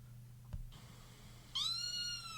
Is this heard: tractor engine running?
no